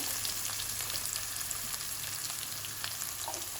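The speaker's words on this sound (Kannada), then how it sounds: "ಈರುಳ್ಳಿ ಸ್ವಲ್ಪ ಹಸಿ ವಾಸನೆ ಹೋಗೋ ತನಕ ಫ್ರೈ ಮಾಡ್ಕೊಳ್ಬೇಕು" Onions sizzling in a pan with garlic and red chili, a fine continuous crackle of frying with faint light stirring, steady and fairly quiet throughout.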